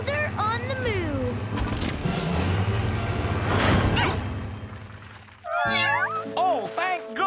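Cartoon cats meow repeatedly in high, sliding cries, first under a mix of engine rumble and voices, then more clearly in a cluster of meows near the end.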